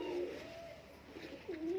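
Lahori fancy pigeons coo softly nearby, two low, rolling calls separated by a short pause against quiet background.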